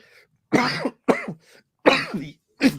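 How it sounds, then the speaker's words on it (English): Four harsh coughs in quick succession, close and fairly loud, with short pauses between them. "that got me coughing mad"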